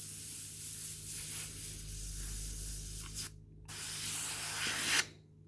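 Airbrush spraying primer onto a 1/35 scale StuH.42 model kit, a close steady hiss over a low hum that breaks off briefly, resumes, then stops.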